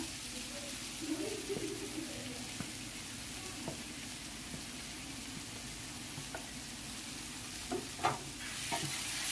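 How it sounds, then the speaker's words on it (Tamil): Shredded cabbage sizzles in a hot pan alongside tomato while a spoon stirs it, a steady low frying hiss with occasional scraping clinks, close and moderately quiet, with faint voice in the background. "கோஸ் நல்லா வதங்கட்டும்."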